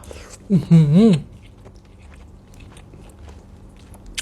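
Sticky rice is bitten and chewed close to the mic, with soft wet mouth sounds and crunches continuing quietly after a man's brief speech at the start.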